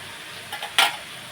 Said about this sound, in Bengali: কচুর লতি ভেজে যাবে পেঁয়াজ রসুন সব ভেজে যাবে